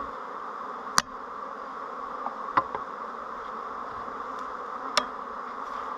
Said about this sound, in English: the bees are pretty easy going, but this batch is a little hot.